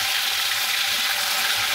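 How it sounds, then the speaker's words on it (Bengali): Onion paste fries in refined white oil for a chicken biryani, giving a steady, close, broadband sizzling hiss that holds evenly and then cuts off abruptly at the end, with no one talking. "ভেজে নিচ্ছি এখন"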